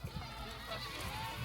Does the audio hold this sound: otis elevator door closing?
no